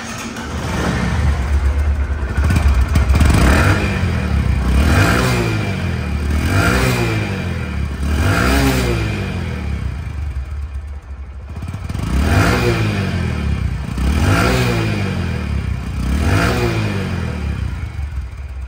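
A second-hand Bajaj Platina 100cc motorcycle in showroom condition, with about 1200 km on it, runs close by. Its engine revs up and eases back in a steady repeating cycle, alone and without talk.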